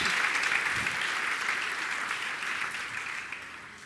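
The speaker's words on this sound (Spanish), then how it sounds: "Un aplauso a Jesús." A church congregation applauds during a worship service, a dense, steady wash of clapping that fades slightly toward the end.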